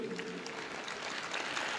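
An audience in a lecture hall gives a brief burst of applause, soft and somewhat distant, with no voice over it.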